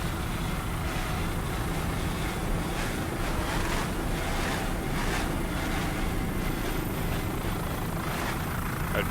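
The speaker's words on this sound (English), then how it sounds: "Nice throttling there by Alan Christie" A 30-foot AMT Superstock offshore racing powerboat roars steadily at the Miami Offshore Grand Prix, its engine din mixed with wind and wash of waves, loud and continuous throughout without voices.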